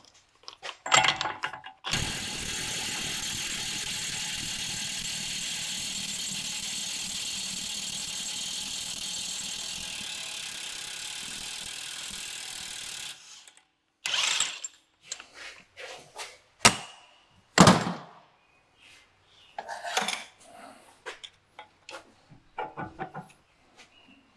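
Removing the front axle nut on a Cadillac XT5 during hub bearing work: a long, steady power tool whir runs for about ten seconds, then gives way to scattered metallic clanks and knocks.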